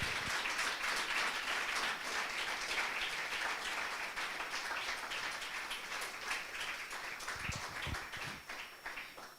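A church congregation applauds at a Spanish-language service, a steady dense wash of clapping held for several seconds at a moderate distance, thinning slightly toward the end with a few louder isolated claps.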